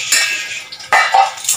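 Fried food scooped out of a cooking pan, with two bursts of metal-on-pan scraping and clinking, close and fairly loud, with brief pauses between.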